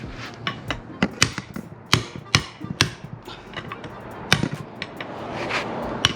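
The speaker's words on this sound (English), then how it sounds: "I didn't know you were hammering." Sharp hammer blows ring out irregularly while removing Lexus IS300 subframe and differential bushings, some in quick pairs, over a steady background rumble, fairly close and loud.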